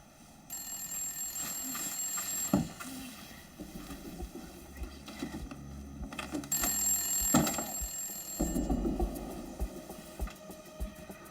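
A 1974-era telephone rings in two bursts, each a shrill, sustained electric bell trill separated by a pause, fairly close and clear over a low, tense background.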